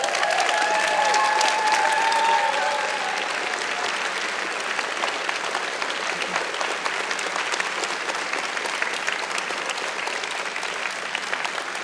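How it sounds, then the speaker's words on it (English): Steady applause from an audience fills the room, dense clapping that stays strong throughout with a slight drop in intensity after the first few seconds. "give them a round of applause for putting in the effort for this"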